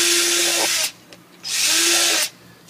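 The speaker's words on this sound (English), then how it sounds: "you've got to make sure that you drill holes" A power drill bores holes through plastic yogurt containers for a wicking garden bed, two loud whirring bursts of drilling separated by a short pause, close up with no talk.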